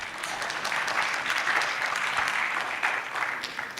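Audience clapping at a youth forum, a full room applauding together in an even, sustained wash of claps that holds steady throughout, heard from within the crowd.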